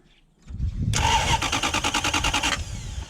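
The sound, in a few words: Toyota Hilux pickup engine cranking and starting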